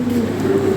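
A European racer pigeon gives a single short, low, close coo that rises slightly at the end.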